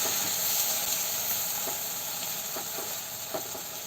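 A dosa spread with garlic, ginger, onion and tomato paste cooks on a hot pan, giving a continuous close hiss and gentle sizzle with a few faint scraping ticks.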